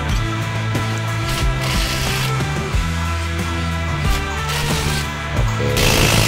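Bolts being fastened onto the clutch cover of a Toyota Avanza with a ratchet, loud and close, with continuous rapid clicking and a mechanical hum in a workshop, without talking.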